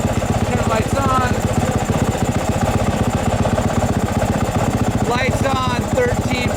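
Yamaha YZ dirt bike engine idling steadily with a close, even low rumble, lights on and charging the battery; a voice talks briefly over it.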